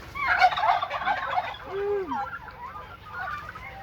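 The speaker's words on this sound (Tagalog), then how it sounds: "Ayun mga puti na manok oh" White chickens gobble and cluck close by in a noisy flurry of bird calls, then quieter scattered clucking, with no speech.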